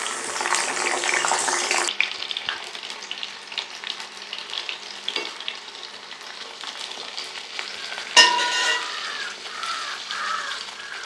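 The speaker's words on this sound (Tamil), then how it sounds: "எண்ணெய் வந்து நல்லா கொதிச்சுட்டு இப்போ வந்து முதல்ல வாழைக்காயை வந்து போட்டு எடுப்போம்." Green plantain frying in hot oil in a small pan, with a bright, loud sizzle for the first two seconds that settles into a softer crackle with occasional louder bursts.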